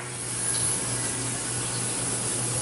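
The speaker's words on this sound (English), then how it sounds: "that can of brake parts cleaner you have, just kind of spray off the bottom of the transmission here" Brake parts cleaner sprayed from an aerosol can onto the underside of a Toyota Camry transmission, a steady, fairly quiet hiss running unbroken over a low background hum.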